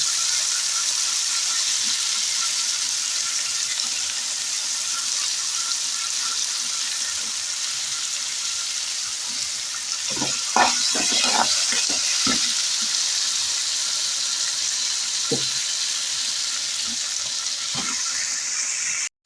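Thinly cut potato pieces frying in plenty of hot oil, a loud steady sizzle with occasional stirring clinks partway through, and no talking.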